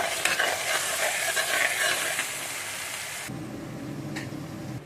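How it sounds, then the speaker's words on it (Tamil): Ginger garlic paste and onions sautéing in a pan for chicken chukka, a close sizzling hiss with stirring that drops to a softer, quieter fry partway through. "இது சேர்த்து நல்லா இந்த வெங்காயத்தோடு ஒட்ட வதக்கிக்கலாம்."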